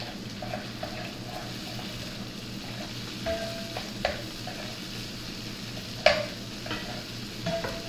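Squeezed ginger is stirred in a hot pan for sweet and spicy chilli shrimp, making a quiet continuous sizzle with occasional scraping and clinking of the utensil against the pan, close by and without speech.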